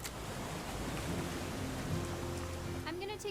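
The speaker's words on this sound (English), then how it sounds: "It's gonna rain the whole weekend" A broad, steady rush of rain fills the scene in What Remains of Edith Finch, with a low tonal hum rising through the middle and a brief rising tone near the end.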